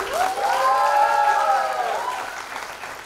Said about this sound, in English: Let's hear a big round of applause, everyone.